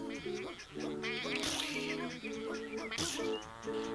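Several sheep bleats in a video game, repeated wavering calls overlapping with background music or tones, fairly close.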